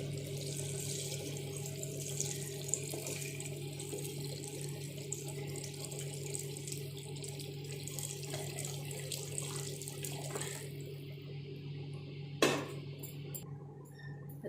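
Water pours steadily into a pot of rice for chicken biryani, a soft continuous trickling and splashing over a low background hum, with a brief clatter near the end.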